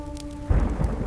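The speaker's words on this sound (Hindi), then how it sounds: "चारों तरफ सिर्फ अंधेरा और तूफानी बारिश।" Steady hiss of heavy rain joined by a deep rumbling surge halfway through, a loud stormy downpour with low thunder-like roar.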